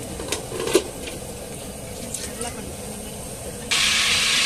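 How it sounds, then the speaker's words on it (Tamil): A few soft clinks of cookware in a quiet room, then oil suddenly erupts into a loud, steady sizzle that continues to the end. "எண்ணெய் ஊத்தலாம்."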